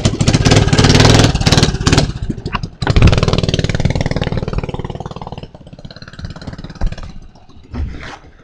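A motorcycle engine that is running a little rich and blowing some smoke idles loudly and close while warming up, with a steady rapid chug that dips briefly and then settles into a quieter, uneven putter.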